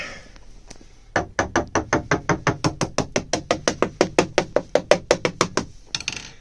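A rapid, even series of about two dozen sharp knocks, a screwdriver tapping a hollow area of a sailboat hull up close, each hit ringing with a dull resonance.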